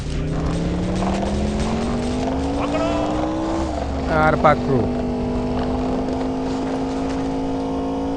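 A video-game police car engine drones steadily while driving onto a highway, its pitch rising then settling, with a brief tire squeal in the middle and a few spoken words.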